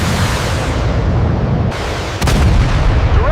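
A cannon shot from an A-10 Warthog strikes a destroyer in a flight-combat setting, producing a loud, sustained explosive roar that swells and rumbles continuously for a few seconds.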